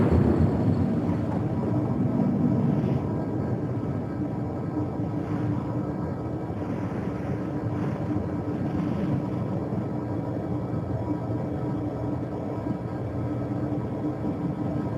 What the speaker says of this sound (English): Engage impulse engines.